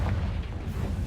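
Confringo, an explosive spell in the video game Hogwarts Legacy, goes off as a single dense, rumbling boom that fills the whole moment without pause.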